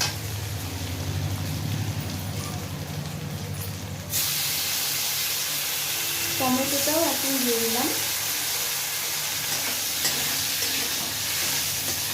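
Fish fries in a pan with a steady, hissing sizzle throughout, and a voice briefly speaks partway through over the frying.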